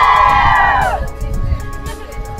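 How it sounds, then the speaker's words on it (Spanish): A crowd of graduates at an outdoor graduation gives a loud burst of shouting and cheering that falls away after a second, leaving a rough hubbub of voices and wind noise. "¡Un grito, un grito!"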